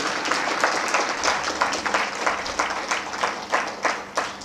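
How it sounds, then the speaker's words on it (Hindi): An audience at a meditation center gives Swami ji a steady round of applause, with individual claps standing out rhythmically in the dense clapping. "तालियां बजाएंगे स्वामी जी के लिए"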